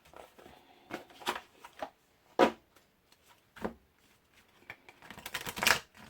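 Tarot cards being shuffled before a card is pulled: a loose run of soft riffling flicks and papery slaps, irregular and close, rising to a denser flurry near the end, with no talking.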